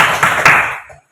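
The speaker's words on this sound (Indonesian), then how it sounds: "Kita beri tepuk tangan." Brief burst of classroom applause for a student group in a school lesson, a short loud patter of clapping hands that fades out within about a second.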